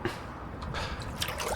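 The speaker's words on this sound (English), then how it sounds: "Get water from the top of the tank." Water taken from the top of a toilet tank in the survival game The Long Dark: a short, soft liquid trickle and splash with faint drips, brief and close, with no speech.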